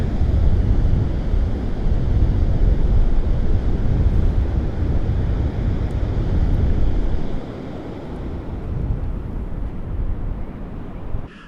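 Ocean surf and wind on a beach along the southern Oregon coast, a loud continuous roar of breaking waves with heavy wind buffeting the microphone, easing slightly toward the end.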